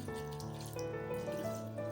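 Water pours steadily into a cooking pot for boiling raw mangoes, a close, continuous splashing fill lasting about two seconds with no talking.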